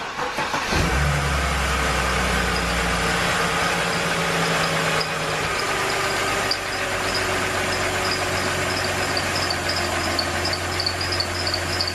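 A car engine cranks and catches with a sudden loud start, then settles into a steady, even idle that runs on unbroken, with no talk over it.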